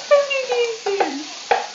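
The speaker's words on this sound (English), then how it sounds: "The onions are chopped and they're cooking." Chopped onions for a chicken curry frying in a pan, with stirring scrapes and a light sizzle in short, close bursts.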